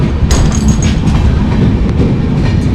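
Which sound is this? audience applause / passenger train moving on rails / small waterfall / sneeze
passenger train moving on rails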